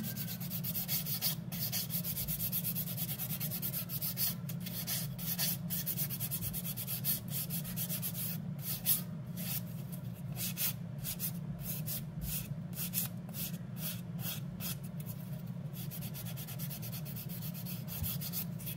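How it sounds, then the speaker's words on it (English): A nail file rasps steadily against a glitter-coated artificial nail in close, continuous scratchy strokes, with faint rhythmic ticks toward the middle and end. "that's why I'm filing quite a bit"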